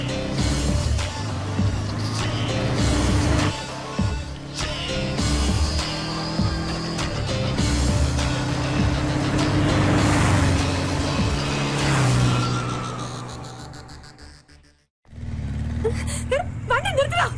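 A car engine runs and pulls away, a continuous motor rumble rising and swelling for several seconds before cutting off abruptly, with voices talking over it.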